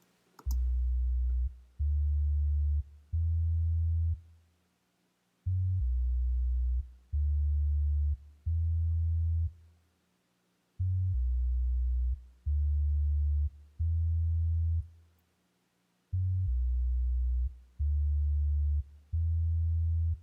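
Sub bass synth sine tone in an electronic music production, playing low sustained notes in short rhythmic groups of three with brief gaps between phrases, steady and loud with no other sounds.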